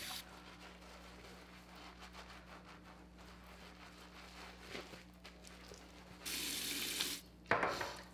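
Faucet water running into a bathroom sink while a face and makeup sponge are wetted, a soft steady trickle that swells into louder gushing bursts near the end.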